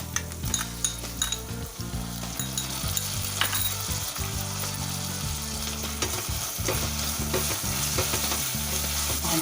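Tomatoes with ginger garlic paste frying on high flame for chicken biryani, a loud, steady sizzle with repeated clanks and scrapes of a spoon stirring against the pot.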